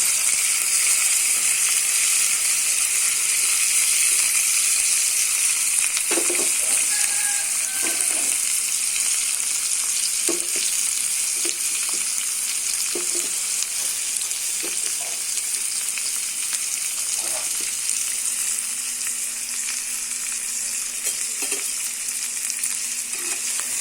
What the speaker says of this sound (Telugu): ఆయిల్ వేపెట్టాక దొండకాయలు వేపుకోవాలి ముందుగా